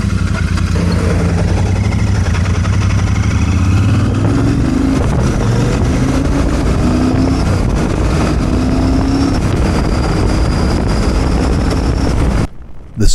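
A Royal Enfield Super Meteor 650 motorcycle is ridden on mountain roads in Thailand, its engine droning loud and steady with rising gear changes and strong wind rush, then cutting off briefly near the end.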